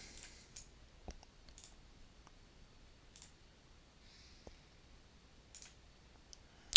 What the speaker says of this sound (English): I'm clicking on the mouse every time one of them comes up